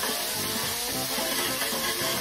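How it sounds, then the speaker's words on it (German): Ingredients for cuttlefish paella, including fried tomato, sizzle steadily in a frying pan, making a close, continuous hissing crackle with no talking. "Leicht anbraten lassen."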